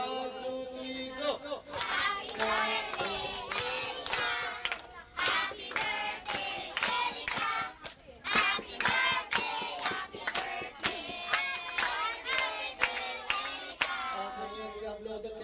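A group of people at a birthday gathering claps hands in sharp rhythmic bursts, loud and close, with voices chanting and calling out between the claps.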